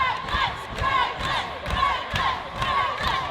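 Ontario fans cheer on their team at a Canadian National Dodgeball Championships gold medal game, a dense crowd of shouts and cheers that swells and dips in waves while filling the whole hall.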